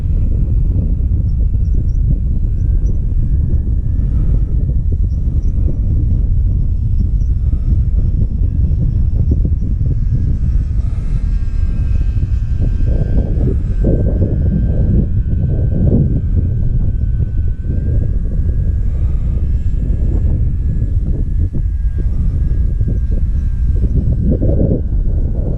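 A Night Walrus model aircraft flies in very windy conditions, its steady high motor whine drifting over heavy, constant wind roar and buffeting on the microphone, rising and falling as it passes.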